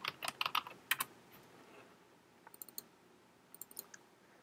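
Quick bursts of typing on a Mac keyboard, crisp clicking keystrokes in a short flurry, then two smaller clusters of taps after a pause, close and quiet with no talking.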